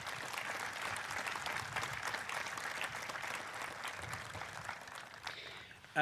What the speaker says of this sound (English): Could I have a round of applause for our special guests?